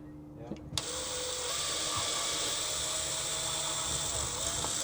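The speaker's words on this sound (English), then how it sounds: "I'm putting a drill through first" A power drill whirs up sharply after a few quiet clicks, then runs steadily with a high, grinding whine as it bores through wood.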